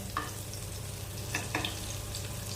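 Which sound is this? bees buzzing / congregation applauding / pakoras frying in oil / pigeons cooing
pakoras frying in oil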